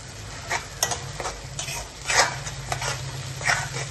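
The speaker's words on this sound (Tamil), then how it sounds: "தக்காளி பச்சை வாசனை போகிற வரைக்கும் நல்லா வதக்குவோம்." Tomato puree sizzles in a pan while a spoon stirs and scrapes repeatedly in an uneven rhythm, close and fairly loud.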